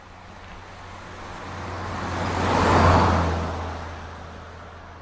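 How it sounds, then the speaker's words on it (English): A single car passes by on a road, swelling from a steady distant rumble to a loud whoosh at its closest point about midway, then fading away again. "let's listen to the sound of a car passing by and try to analyze it"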